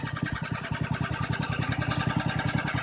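Small portable generator, left unused for about a month, idling in warm weather just after starting, with a steady fast mid-range engine putter pulsing at an even rhythm, close and fairly loud throughout.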